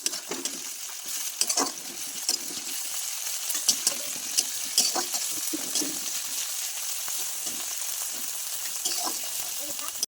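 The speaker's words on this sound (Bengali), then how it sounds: "পেঁয়াজ ভাজা হয়ে গেছে, রসুন বাটা দিচ্ছি" Onion frying with garlic and ginger paste, giving a steady, close sizzle broken by frequent clacks and scrapes of stirring throughout.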